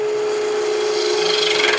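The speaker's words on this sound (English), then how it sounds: "Let me go back to the peeler cut for a second." A skew chisel making a peeler cut on a wood spindle spinning on a lathe: a loud, continuous rasping shave with a steady humming tone, with no voices.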